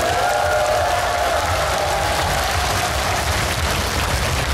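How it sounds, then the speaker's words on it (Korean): Outdoor concert crowd in Geochang cheering and applauding for a singer, a dense, loud roar of clapping and shouts that stays steady throughout. "함성과 박수 한번 주세요."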